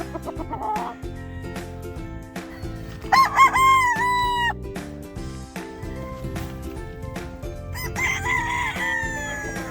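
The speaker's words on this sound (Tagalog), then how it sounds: "Quality manok dito sa may Team Escolin kay Bert Silin guys ng 482 game farm" Several gamecock roosters crow loudly nearby at a gamefowl farm, one clear call after another, overlapping with clucking and other farmyard noises.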